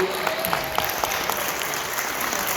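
An audience at a comedy show in Canada applauds, a steady wash of clapping at moderate level with a few sharper individual claps and faint background voices.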